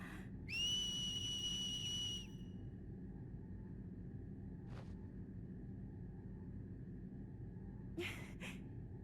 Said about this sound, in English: Wonder if a whistle would work here.